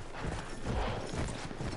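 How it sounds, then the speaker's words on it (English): Galloping horse in the video game Battlefield 1, a steady rolling clip-clop of hooves over a dense bed of game ambience, continuous and fairly loud for the whole stretch. "The horse can jump stuff."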